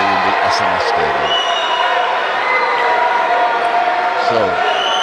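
Crowd cheering in a stadium at a men's table tennis match, a steady loud wash of applause and voices throughout, with a few bouncing thumps near the start and end.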